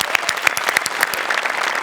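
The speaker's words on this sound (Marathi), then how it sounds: "ये बाद जोरदार टाळ्या दोघांसाठी." Audience applause for two performers on a Marathi comedy stage show, a dense steady patter of many hands clapping close and loud throughout, with faint crowd murmur underneath.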